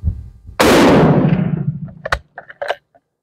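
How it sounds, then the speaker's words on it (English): A Dutch Mannlicher rifle fires one round-nose bullet at an outdoor range, a single sharp loud crack with a fading echo, followed by a few faint clicks. "So I'm going to shoot the right target with the round nose bullets"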